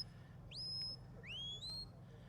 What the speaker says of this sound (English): Big flank whistle now for the turn